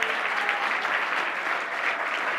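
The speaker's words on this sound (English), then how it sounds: "I know everyone was applauding" A crowd applauds at an honors brunch celebrating a Gold Circle inductee with 50 years on the job, even dense clapping that holds steady and moderately distant for the whole stretch.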